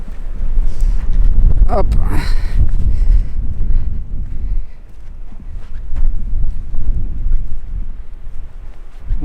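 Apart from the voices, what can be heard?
strong wind on the dunes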